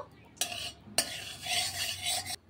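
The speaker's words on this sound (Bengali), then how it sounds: "কড়াইয়ের মধ্যে দিয়ে দিচ্ছি ঘি। আজকে পুরো রান্নাটা কিন্তু ঘিতেই হবে" Ghee heats in a hot kadai on a gas stove, giving a close sizzling hiss that starts with two sharp clinks of a utensil, then swells into a steady stirred sizzle before cutting off near the end.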